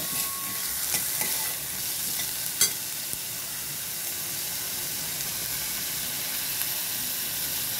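Tomatoes sizzle in a frying pan for pasta sauce, with a steady close hiss and a few clinks and scrapes of a stirring spoon, no talking.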